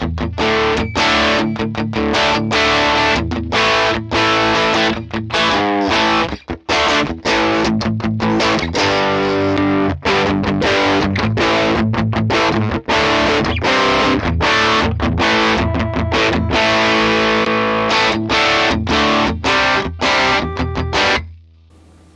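Overdriven electric guitar through a Vox AC15/AC30 amp model on an Axe-Fx III, bridge pickup split coil, plays a continuous, bright, driving riff with heavy distortion, steady and loud throughout before cutting off at the end.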